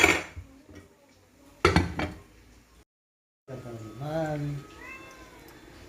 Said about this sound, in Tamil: எல்லா பூனையும் மியாவுன்னு கத்தும், ஆனால் எங்கள் பூனை மட்டும் எப்படி கத்துதுன்னு பாருங்கள்.